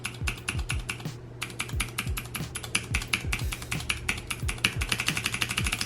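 Rapid, sharp clicks of Cherry MX Blue clicky switches pressed on a keyboard switch tester, crisp and close, in an uneven typing rhythm with a brief pause near the start.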